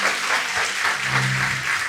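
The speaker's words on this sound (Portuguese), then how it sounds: "Aplauda bem forte o nome dele." Church congregation clapping loudly during a worship service, a dense, continuous round of applause with a low voice faintly under it.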